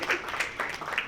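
Audience at a Ruth E Carter book signing clapping, a steady round of applause that fills the moment, fairly close and fading slightly.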